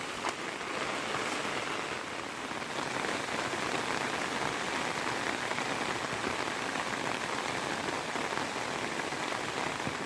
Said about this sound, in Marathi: पाऊस जाम घोळ घालता नाही तर थोडंसं थांबला असता